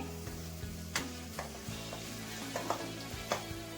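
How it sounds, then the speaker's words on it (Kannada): Onions sautéing in oil sizzle softly and steadily, broken by regular scraping and stirring knocks from a spatula against the pan. "ಈರುಳ್ಳಿನ ಸ್ವಲ್ಪ ಎಣ್ಣೆಲೆ ಬಾಡ್ಸ್ಕೊಂತ ಇದೀನಿ"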